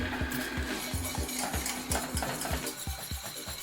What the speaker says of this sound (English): So you're gonna stir all your ingredients.